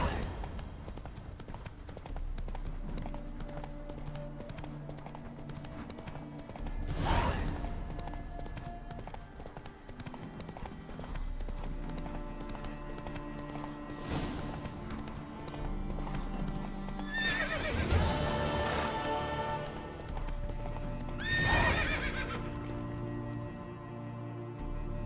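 A horse in The Witcher 3 video game gallops with rhythmic hoofbeats and neighs loudly several times, set against game music and ambient sound.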